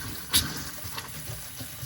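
Water refills RV plumbing after de-winterizing, with air in the line: a soft, steady gurgling trickle at low level with a single sharp bubbly spurt near the start.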